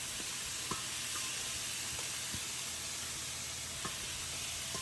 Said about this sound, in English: we're going to let that cook until the vegetables soften up a bit